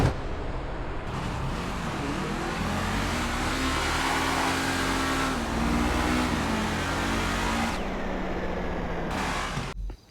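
All-wheel drive car launching off the line in a GTA V drag race, engine roaring loudly and steadily as it accelerates with a brief shift partway, then cutting off abruptly at the end.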